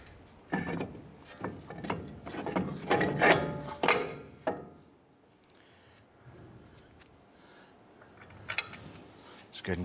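Metal brake pads, caliper bracket and caliper slide onto the steering knuckle of a 2011–2018 Ram 1500, making close scraping, clunking and rattling sounds in bursts, then quieter handling noises toward the end.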